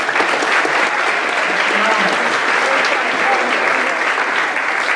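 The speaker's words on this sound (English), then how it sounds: "give yourself a great round of applause." At a university student-athlete awards night, the crowd gives itself a hearty round of applause, a full, continuous wash of clapping lasting about five seconds, with faint voices mixed in underneath.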